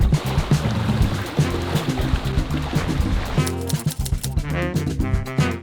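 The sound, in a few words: wind and soft waves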